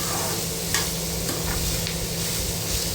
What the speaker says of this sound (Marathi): कांदा आपण व्यवस्थित परतून घेऊया कांदा आणि लसूण